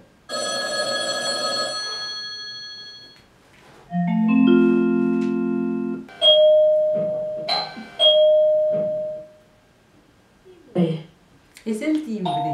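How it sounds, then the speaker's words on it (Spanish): An electronic doorbell chimes through a sequence of clear tones, rings again a few times with short pauses, then a voice speaks briefly near the end. "Es el timbre."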